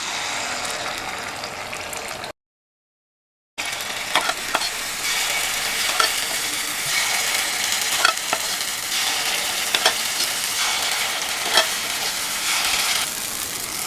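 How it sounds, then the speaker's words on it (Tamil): Jaggery-sweetened paniyaram batter sizzling in hot ghee in the cups of a paniyaram pan, a dense continuous crackle with small clicks of a spoon, briefly cut to silence before resuming close and loud. "நெய் சூடாயிடுச்சு. ஒவ்வொரு குழியிலையும் பணியாரத்தை எடுத்து ஊற்றிடலாம்."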